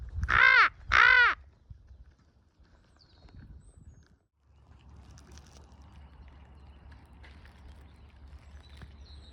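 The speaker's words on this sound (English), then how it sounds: "let's try and find the crows, huh?" Two loud, harsh caws from crows ring out close together outdoors early on a spring morning in Norway, followed by a quiet stretch of faint ambient rustle and distant sounds.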